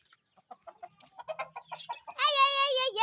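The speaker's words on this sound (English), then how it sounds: "look at the chickens" Chickens cluck in a series of short, close, irregular clucks, then one breaks into a longer, louder drawn-out squawking call at the end, with no voices.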